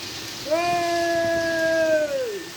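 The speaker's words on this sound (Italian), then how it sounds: "questa è grandine! È la grandine!" Hail pounds down during a storm in Quartu Sant'Elena, a dense, steady patter filling the air while a person lets out one long, drawn-out call over it.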